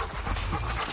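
A dog pants steadily at close range, quick rhythmic breaths filling the whole second while out walking on a leash with a trainer.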